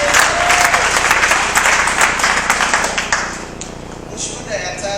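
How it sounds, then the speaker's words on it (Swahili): A church congregation at a testimony service breaks into loud, sustained applause, dense clapping that fills the space for several seconds before thinning slightly toward the end. "Yesu makofi mazuri."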